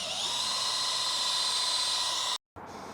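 A drill fitted with a sanding pad whines steadily while sanding an Audi TT headlight lens with 800-grit paper, then cuts out abruptly near the end before briefly restarting.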